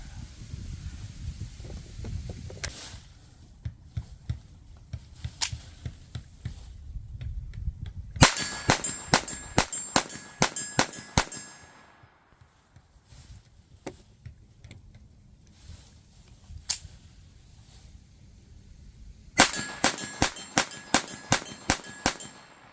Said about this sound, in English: Get that half scale silhouette over there at 25 yards,